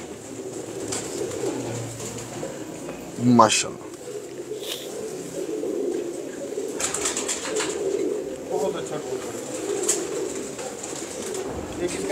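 Pigeons coo softly in a loft amid steady background noise, with a brief flutter of wings and someone speaking a short word.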